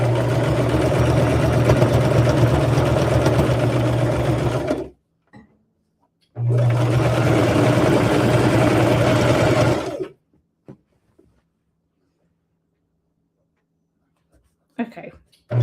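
A domestic sewing machine stitches around a seam on a rag quilt in two steady runs of about four seconds each, separated by a pause, with a few faint handling clicks at the end.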